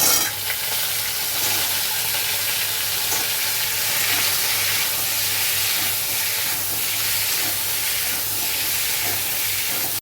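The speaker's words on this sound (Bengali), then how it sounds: "কচুগুলোকে ভেজে নেব।" Taro pieces fry in mustard oil with a dried red chili and bay leaf for a Bengali-style taro and prawn dish, giving a steady, loud, close sizzle with a constant hiss throughout.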